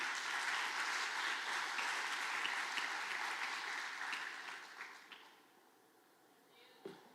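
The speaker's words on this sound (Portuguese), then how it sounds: "Dê uma salva de palmas a esse Deus tremendo." A church congregation applauds in a dense, sustained wash of clapping that gradually thins and fades out, with a faint voice near the end.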